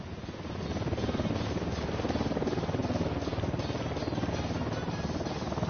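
Steady, dense rotor-like chop of a helicopter holding at a constant level throughout, fairly loud and continuous with no talk over it.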